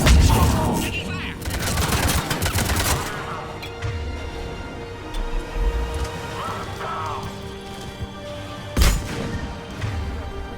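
Gunfire and crashing impacts during an attack in Mass Effect 3, with a dense burst of rapid shots at the start, then scattered booms and sharp hits over a rumbling battle background.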